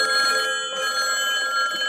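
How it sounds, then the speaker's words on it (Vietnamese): A telephone rings in a Vietnamese animated cartoon with a steady, bright electronic trill that runs throughout, loud and close, with only a brief dip in the middle. "Không biết ai mà gọi điện thoại giờ này ta."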